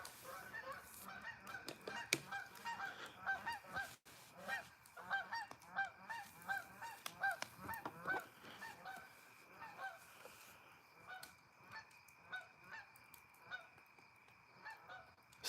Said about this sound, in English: Sounds like it's cheap drinks at the bar night for these geese.